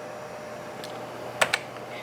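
HP Keytronic keyboard on a Windows 95-era HP Vectra computer, a few sparse, faint key clicks with two sharper taps close together over a quiet room hiss.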